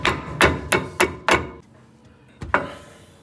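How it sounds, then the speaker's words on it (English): A hammer lightly taps on a Brembo brake part during a car brake upgrade, five quick evenly spaced metallic knocks, a pause, then one more tap, close and crisp. "And then we'll lightly tap down here."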